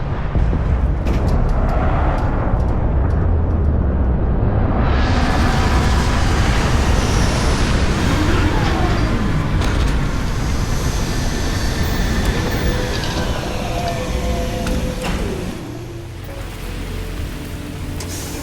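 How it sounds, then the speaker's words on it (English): A spaceship lands in the video game Starfield, a loud, sustained roar of engines and rushing noise that swells, holds, then eases down near the end, with no talking. "Landing commencing."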